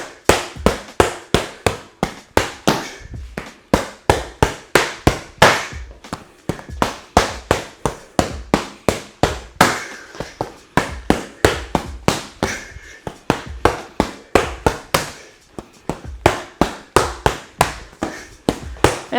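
Boxing punches thrown in a jab, cross and body-shot combination land as a long run of sharp, rapid impact thuds, many in quick succession with brief pauses, close and loud with no talking.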